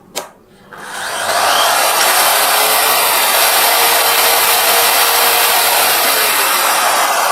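A power tool with a soft-start feature switches on with a click, then ramps up over about a second to a loud, steady high whine that holds unbroken, with no talking.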